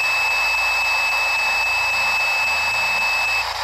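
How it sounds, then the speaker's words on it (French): A ghost-hunting device emits a single steady electronic beep, a sustained high tone that runs for several seconds over faint background hiss. "Donc c'est un bip, hein, donc c'est oui."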